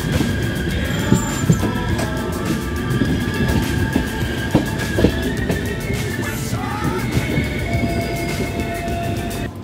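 The 12988 Ajmer Sealdah Express arrives at Sasaram Junction in Bihar, a steady rolling rumble with rhythmic wheel clicks over rail joints and occasional squeals, loud and close throughout.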